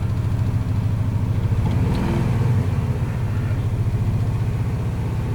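A 1998 Chevy Vortec truck engine, back running after ten years parked, idles with a steady loud low rumble and a brief rise around the middle, close by and without talk.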